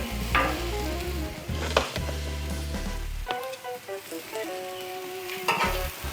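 Pumpernickel bread laid into melted butter on a Blackstone griddle, a close sizzle with bursts of spatula scraping and a hum that cuts out midway, leaving quieter crackling.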